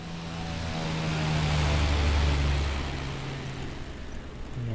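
A Britten-Norman Islander propeller aircraft lands at St Mary's in the Isles of Scilly, with a continuous droning engine and propeller hum that swells in the middle and then eases off.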